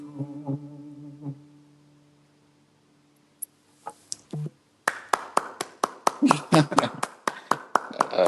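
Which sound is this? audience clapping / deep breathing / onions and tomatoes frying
audience clapping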